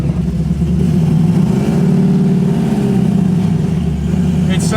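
A 540 cubic inch big block V8 in a 1968 Camaro pulls away from a stop with a steady, deep engine drone. It holds fairly level and loud throughout, with a brief lift near the end.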